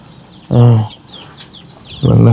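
Chickens on a rural farm beside rice fields give two short, close bursts of clucking separated by a quiet pause, with faint bird chirps in the background.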